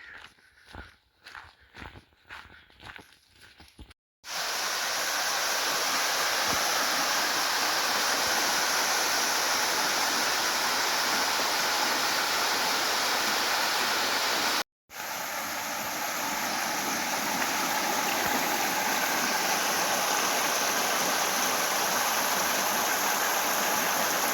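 South Mills River rushes steadily beside a forest trail, a loud continuous broadband roar of flowing water after a brief stretch of footsteps and rustling at the start, with a short break midway.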